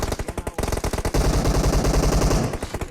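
Rapid automatic gunfire in the PUBG battle royale game, with close bursts of repeated shots, a brief pause, then a long sustained stream of fire before tapering into a few final shots.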